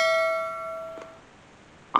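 Notification bell chime: a single bright ding that rings out and slowly decays, followed by a soft tap and then a short sharp click at the end.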